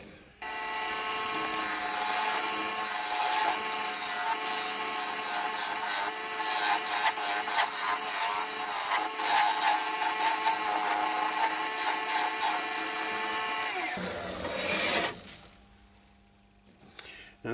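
A woodturning lathe cuts a small mortise into a wooden pot, a loud, steady machining whir with gritty chatter, then the cut stops abruptly and the motor winds down.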